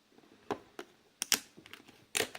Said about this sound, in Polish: Podwadzamy klawiaturkę numeryczną